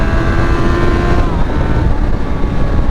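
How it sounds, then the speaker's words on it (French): A motorcycle engine runs loud and close in a steady, unbroken drone with a faint whining tone, heard alone without talk. "C'est une dinguerie cette moto."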